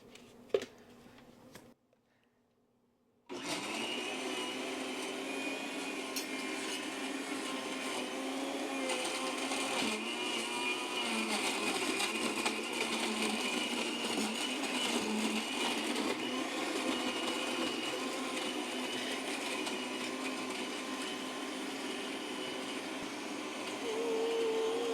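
A blender whirs continuously at full power, loud and steady after a brief start and pause, blending a green tea smoothie made with brewed tea as the liquid and frozen ingredients.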